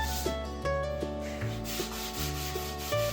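Woodworking project being sanded with a power sander, a loud, continuous close-up whir with a steady hum and rhythmic rubbing swells as the pad passes over the wood, with no voices.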